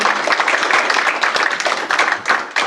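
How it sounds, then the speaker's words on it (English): A congregation at a spiritual centre service applauds with dense, sustained, fairly close clapping from many hands across the whole stretch. "Then let's just applaud ourselves."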